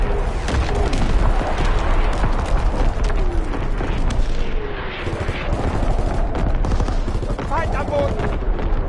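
Enemy artillery fire in a video game, with dense rumbling booms and rapid gunfire-like bursts filling the whole stretch at steady loudness, while voices speak briefly over the battle noise.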